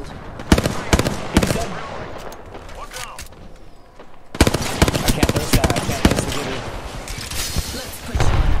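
Rapid bursts of gunfire in the video game Apex Legends, sharp repeated cracks in clusters with a brief lull midway, loud and close, with excited voices calling out over the shots.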